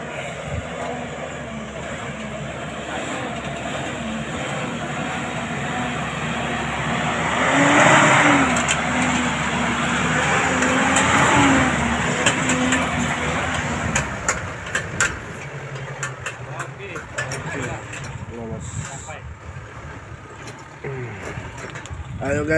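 A car travels a rural road on Buru Island, its engine a steady moderate drone through most of the stretch, swelling briefly midway, with road noise and scattered knocks toward the end and voices talking throughout.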